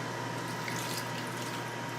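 Water runs steadily from a tap into a pot for cooking boxed pasta, a continuous close splashing and trickling hiss with no break for the whole stretch.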